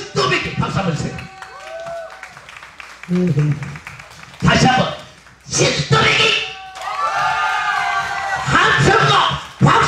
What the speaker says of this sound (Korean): 함성과 박수.